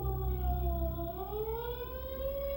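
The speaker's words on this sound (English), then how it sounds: "What if a warning siren sounds?" A loud air-raid warning siren from 1951 wails steadily, its pitch dipping and then climbing again over a low rumbling drone, with no voices.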